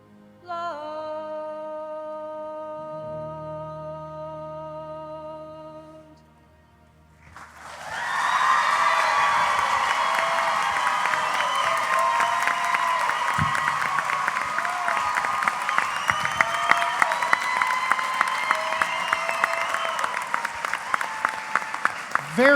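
After a solo singer finishes at a Hoosier Star singing competition, the audience erupts into loud sustained applause and cheering that swells and holds to the end, with a sung final line and piano before it.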